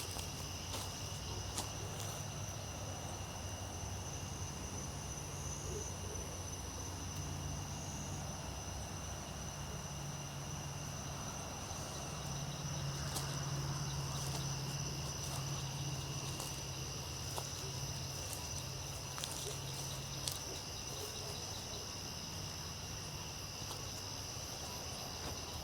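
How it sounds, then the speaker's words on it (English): Steady, faint chorus of crickets chirping continuously, with a low background hum underneath and no voices. "Maybe it is the crickets."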